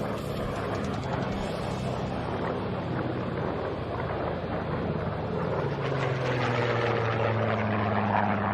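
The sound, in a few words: PBJ bomber radial engines at an air show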